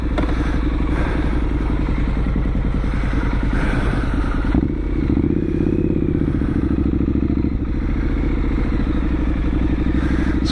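A Triumph Street Scrambler 900 on a short local ride, its engine a loud, steady throbbing rumble heard from on board, with a brief dip and rise in revs midway and wind noise throughout.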